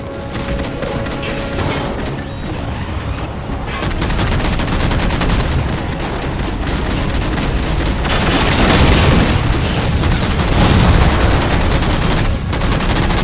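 Heavy automatic gunfire and booming blasts ring out in Halo 4 as jammers are shot down, with continuous loud bursts that swell and intensify over the stretch.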